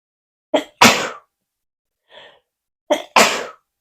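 Two loud, close sneezes, each a sharp burst after a quick intake of breath, separated by a faint breathy sound in between.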